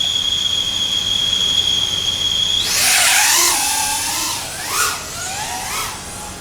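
FPV drone motors spin up after arming during winter testing: a steady high tone gives way to a loud, close whine that sweeps upward in pitch and surges twice more as the throttle changes, with no talk.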